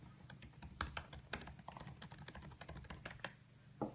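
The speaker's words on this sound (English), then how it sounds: "You're touching the keys and they almost immediately bottom out." Typing on the shallow butterfly keyboard of a 2015 MacBook 12-inch Retina, a quick, irregular stream of light clicky keystrokes, close but quiet, with no voice over it.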